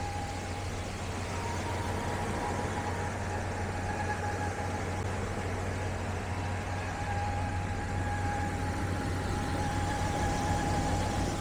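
A 1999 Dodge Ram 1500 pickup truck engine idles steadily with a low, even rumble and a faint tonal whine, close and constant for the whole stretch, no voices.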